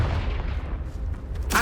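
Confringo fire spell explosion in Hogwarts Legacy, a loud deep rumbling blast that sustains and fades, followed by a brief sharp burst.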